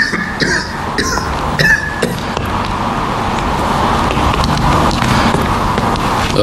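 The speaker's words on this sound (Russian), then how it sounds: "этот кашель меня уже замучил" Persistent coughing from someone who has had a cough for two or three weeks: several harsh, broadband coughs burst out close by in the first two seconds, then give way to a dense, noisy room background.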